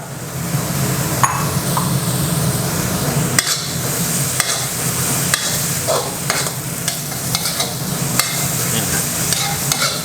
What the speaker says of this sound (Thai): ผัดให้กะเพรา มันสลดนิดนึงนะครับ